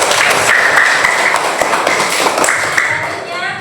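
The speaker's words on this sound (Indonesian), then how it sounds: "tepuk tangan untuk kelompok 1" Classmates clap for group 1 in a classroom, a dense patter of hands lasting a few seconds at close range, with some talk mixed in.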